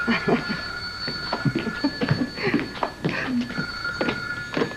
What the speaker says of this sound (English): I won't be able to answer the phone